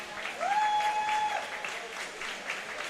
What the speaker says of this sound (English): You can even hear the crowd from both Palatine and Hoffman kind of cheering him on